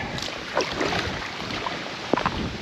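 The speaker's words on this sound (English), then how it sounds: "I love paddling into the wind." Steady wind rush and water noise on a river, where a boat is paddled into the wind, with a few faint splashes of paddle strokes and no talking.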